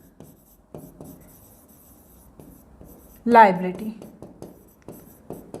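Writing on a board during an accounting lesson: faint, short scratchy strokes that come and go around someone speaking in Hindi.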